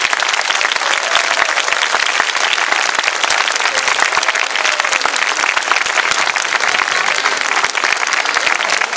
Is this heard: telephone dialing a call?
no